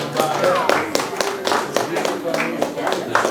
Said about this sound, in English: Nice round of applause, please.